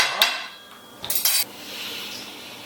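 A spoon clinks and scrapes inside a glass while a beer and bourbon cocktail with bitter orange is stirred, a few sharp close metallic taps followed by a brief rattling swirl, then quiet.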